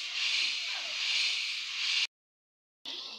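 Puffed rice (muri) roasting in hot sand, a steady loud hiss and crackle running continuously, cutting off abruptly into silence before resuming.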